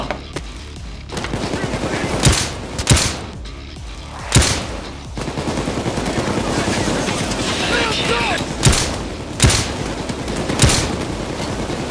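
Automatic gunfire in the video game Payday 2 rattles continuously, punctuated by several sharp louder shots spaced across the stretch, with people talking over the shooting.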